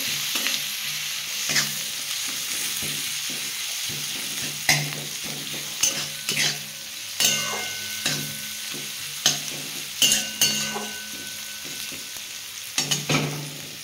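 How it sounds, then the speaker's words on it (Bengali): Onion frying in a pan for a mustard greens fry, with a continuous close sizzle broken by repeated scraping and stirring strokes at an uneven rhythm. "পেঁয়াজটা নিয়ে একটু লাল লাল করে ভেজে নেবো"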